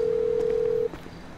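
A mobile phone ring in GTA 5 story mode plays as a single steady, loud tone that stops abruptly, leaving quiet game ambience.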